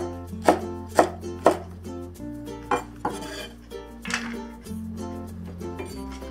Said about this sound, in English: And we'll cut the cilantro,